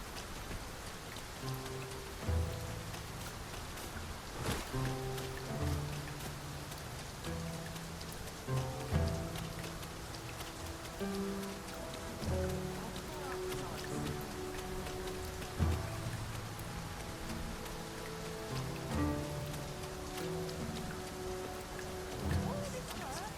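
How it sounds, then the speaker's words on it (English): Steady rain pours down in the Dragon's Dogma 2 game world, a dense hiss of drops striking surfaces with scattered louder splashes and a faint rumble beneath, continuous throughout with no one talking. "Mind the rain, Master. The weather may yet turn fierce."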